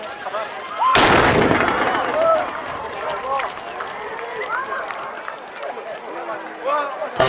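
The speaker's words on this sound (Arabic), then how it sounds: "طلقة متميزة لفرقة" A fantasia troupe fires a traditional musket volley at a Moroccan festival: one loud, booming simultaneous blast near the start, followed by crowd noise, birds and talk.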